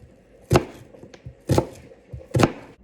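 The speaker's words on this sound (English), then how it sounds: "cut up the onion until it's got to be cooked" Knife chopping onion for Newfoundland salt cod fish cakes: three sharp, evenly spaced thumps on a board, close and clear with quiet gaps between.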